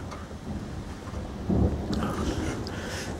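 Thunder from a daytime lightning storm rumbles low and heavy, swelling to a louder roll midway, over a steady wash of rain with occasional drips nearby.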